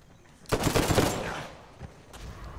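Automatic gunfire in Uncharted 4 multiplayer breaks out as one loud rattling burst, then fades into scattered, weaker shots and a short final volley.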